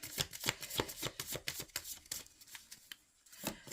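Tarot cards being shuffled by hand, a rapid run of crisp riffling flicks close to the listener that slows and thins out toward the end, fairly quiet.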